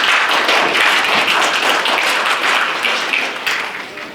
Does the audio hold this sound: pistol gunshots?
no